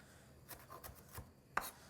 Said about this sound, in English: I'm going to run my knife through these herbs as many times as possible and get them as small as possible.